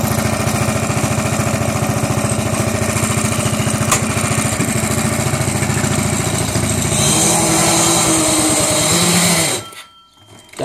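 A Predator 6.5 small engine fitted with an air filter adapter runs steadily, with a loud, even chugging drone that shifts pitch partway through before cutting out abruptly near the end.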